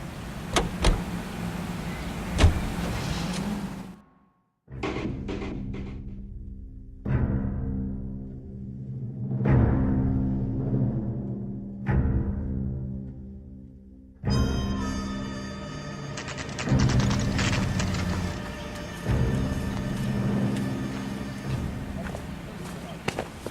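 Car driving in the video game L.A. Noire, a steady engine and road hum with door and window-like clunks, running continuously at moderate level under game dialogue between characters.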